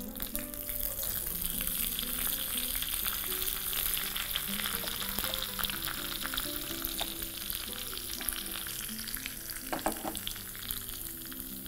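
Cloves, fennel seeds and curry leaves fry hard in hot oil for a tempering, a dense continuous sizzle and crackle with occasional pops, close and steady throughout.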